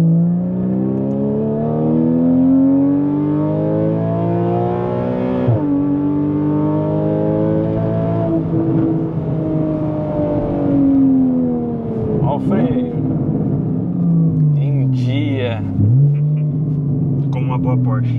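A 2014 Porsche Cayman S with the 3.4 engine and a straight-pipe exhaust revs hard on kick-down. The loud, rasping engine note climbs and falls continuously for the whole stretch, with a voice faintly under it.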